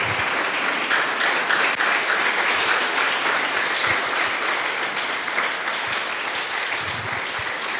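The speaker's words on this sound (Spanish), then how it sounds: "demos un aplauso al Señor" A church congregation applauding together in a steady, dense roar of clapping, sustained and even for the whole stretch with no speech on top.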